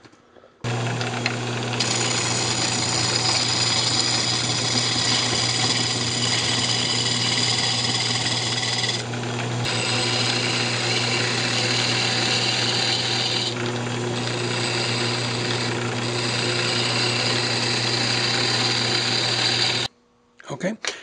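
Wood lathe spinning while a lidded wooden box is turned: a steady motor hum with a high whine, broken by short shifts in tone as the tool contacts the wood, then stopping near the end.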